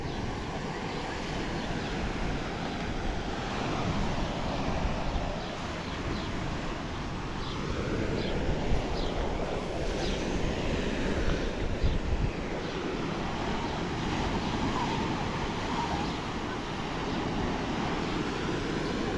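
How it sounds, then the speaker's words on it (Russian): Sea waves washing onto Meganom beach in Crimea, a steady broadband roar of surf mixed with wind buffeting the microphone, continuous and fairly loud throughout, with no talking. "Вот пляж Меганом."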